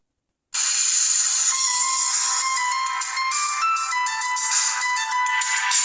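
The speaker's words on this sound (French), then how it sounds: "On va essayer le son du téléphone." Ringtone from a LEAGOO KIICAA Power smartphone playing through its loudspeaker, a loud, shrill, bright electronic melody that starts abruptly after a brief silence and keeps going steadily, with no voices.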